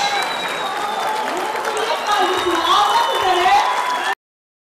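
A crowd applauds steadily for about four seconds, with voices mixed into the clapping before it cuts off abruptly.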